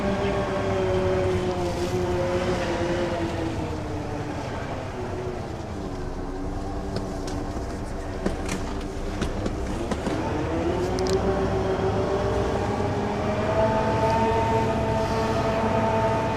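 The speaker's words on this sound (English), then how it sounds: "The pump in the background." A concrete pump runs during slip-form construction at Drax Power Station, a loud, continuous droning engine with humming tones that rise and fall as the load shifts, plus occasional clanks nearby.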